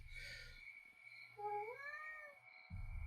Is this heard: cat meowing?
yes